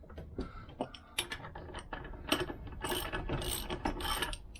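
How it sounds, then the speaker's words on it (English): A ratchet tightens an Allen bolt on a Lambretta scooter engine during a rebuild, giving steady mechanical clicking bursts of pawl ticks close up, with bolder rasping runs in the second half. "as you tighten this up, this Allen bolt moves towards the plate"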